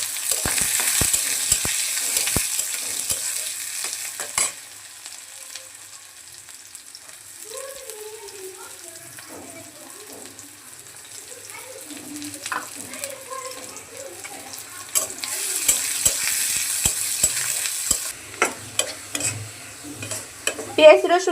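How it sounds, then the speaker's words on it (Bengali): Chopped onion, garlic and green chili hit hot oil in a pan after fried dried red chilies. Loud sizzling bursts and clattering stirs come at the start and end, with a quieter stretch between where a faint voice is heard. "এখন দিয়ে দিচ্ছি কেটে রাখা পেঁয়াজ, রসুন আর কাঁচা লঙ্কা।"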